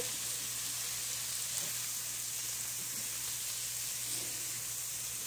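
Beef and chicken fajitas sizzling in a pan, Texas style, a constant even crackling hiss with no distinct stirring strokes, quiet and steady, with no talking.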